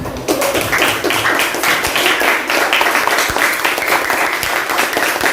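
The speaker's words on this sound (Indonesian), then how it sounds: "tepuk tangan" Group clapping in a classroom during a teaching practice lesson on sujud tilawah, a dense, steady patter of many hands close by, sustained for several seconds without pause.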